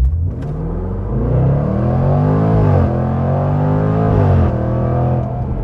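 A 2020 performance SUV, a BMW X3 M or Jaguar F-PACE SVR, accelerates at full throttle in manual mode, its loud engine note rising steadily through two gear changes, heard close from inside the cabin.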